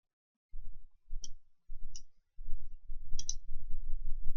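A computer mouse clicks during work in an Excel spreadsheet: sharp, crisp clicks spaced irregularly, ending in a quick double click, each with a soft thump against quiet surroundings.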